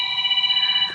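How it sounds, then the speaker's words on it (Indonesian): An incoming call sets a phone ringing with a steady electronic tone held through the whole second, close and clear against low background noise. "Bentar ada telepon"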